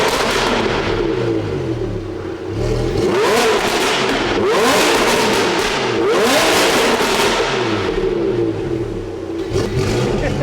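A Lamborghini Huracan 5.2 V10 fitted with an FMU-built exhaust, revved hard while stationary, its loud, close engine rising and falling in repeated sweeps with crackling overrun pops between the revs.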